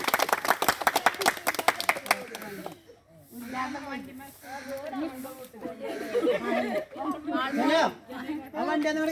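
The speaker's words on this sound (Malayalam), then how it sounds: "കയ്യടിച്ചോളി." A burst of rapid clapping from several people lasts a couple of seconds, then gives way to close, lively conversation.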